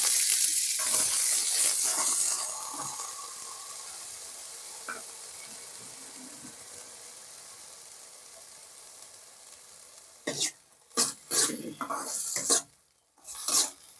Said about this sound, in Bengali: ওই কেটে রাখা আলুটা দিয়ে দেবো দিয়ে হালকা করে ভেজে নেব